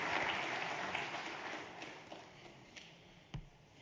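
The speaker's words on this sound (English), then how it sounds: "And one more round of applause" An audience at an economic forum gives a quiet round of applause that fades over a few seconds into scattered claps and a few distinct taps, heard faint and distant.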